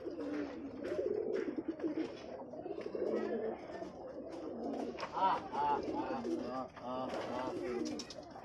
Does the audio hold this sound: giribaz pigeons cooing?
yes